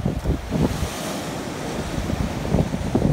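Waves wash steadily onto the sandy beach at Kennack Sands, a continuous rushing surf with gusty wind noise buffeting the microphone throughout.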